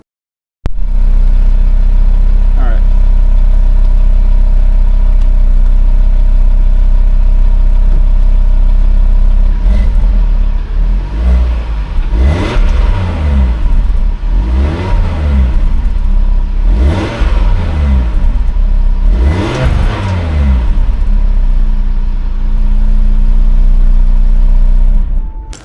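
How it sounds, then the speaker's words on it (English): A 2025 Audi RS3 with sport exhaust starts up, settles into a steady idle, then is revved in several sharp blips that rise and fall, loud and close throughout, with no talking. "let's do a startup of the vehicle of the 2025 Audi RS3 and let you guys hear what it sounds like."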